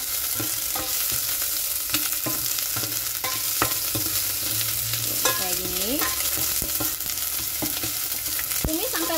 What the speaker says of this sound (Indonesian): Panaskan minyak, kemudian kita tumis semua bumbunya.